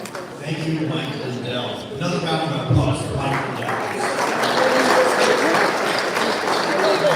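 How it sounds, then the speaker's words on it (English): An audience at Trump International Golf Club applauds Mike Lindell, a broad wash of clapping that builds and holds throughout while voices carry over it. "Another round of applause for Mike Lindell."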